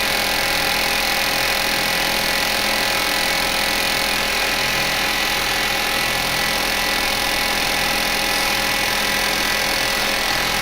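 A gouge makes a bevel cut in wood spinning on a woodturning lathe. A dense, steady broadband hiss and hum continues without a break, loud and close throughout, with no voice over it.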